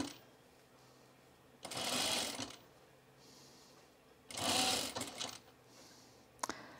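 Blouse fabric being hemmed on a home sewing machine, heard in two distinct bursts of steady whirring stitching separated by quieter pauses, with a brief click near the end.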